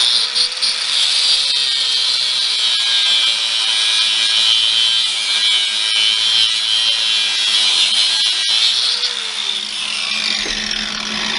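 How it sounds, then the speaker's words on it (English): A power tool cuts a short piece, about 3/8 to 1/2 inch, off stock for a homemade fishing boat rod holder. The cut gives a loud, steady, high-pitched whine and grind that runs unbroken throughout. "Now I'm going to cut just a small piece of this here"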